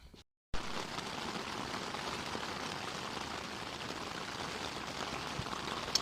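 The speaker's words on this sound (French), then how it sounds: "Bon ben on va pas se le cacher, il pleut" Steady rain falls outdoors on the first stretch of the Camino de Compostela, a dense continuous hiss of drops that begins after a brief silent gap and holds at an even level, with no voices.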